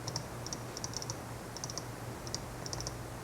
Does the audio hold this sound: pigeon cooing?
no